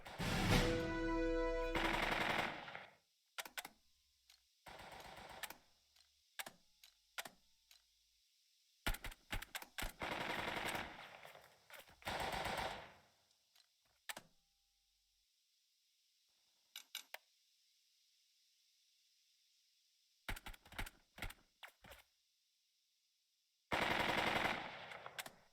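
Gunfire in the Burden of Command video game appears as several loud bursts of rapid shots, some rattling like machine-gun fire, mixed with clicking taps and long quiet gaps between volleys.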